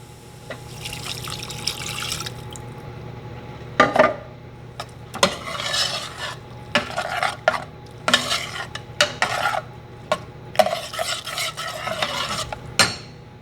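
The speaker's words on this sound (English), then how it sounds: "We add our broth." Broth poured and stirred into a pot of stuffed cabbage rolls, with liquid trickling and splashing, repeated clinks of a utensil against the pot, and bursts of sloshing stirring at close range, no talk.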